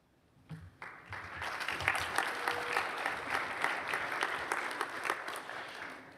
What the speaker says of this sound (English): join me in applauding these graduates as they rise to their feet.